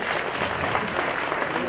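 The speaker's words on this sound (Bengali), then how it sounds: "সো আমি এই দুই মার জন্য আপনাদের সবার কাছে জোরে করতালি চাইছি।" A crowd at an award ceremony honouring mothers at the Sampurna Award 2025 bursts into dense, loud applause that fills the whole short moment.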